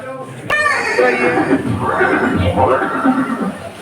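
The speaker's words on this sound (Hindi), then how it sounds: "ये दृश्य महाराणा प्रताप और सुविख्यात स्वामी भक्ति घोड़े चेतक के अंतिम मिलन का है।" A horse, Chetak, the famed warhorse of Maharana Pratap, neighs loudly in a long, quavering whinny that rises and falls for several seconds after a sharp onset, close and prominent.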